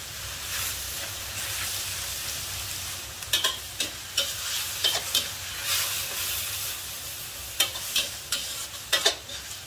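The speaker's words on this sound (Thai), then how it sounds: "ใช้ไฟแรงเลยค่ะตอนนี้นะคะ ไม่ต้องผัดนานเกินเนาะ" Fish and celery stir-fried over high heat in a wok crackle with a steady sizzle, broken by repeated sharp scrapes and clatters of a spatula, close up and with no talking.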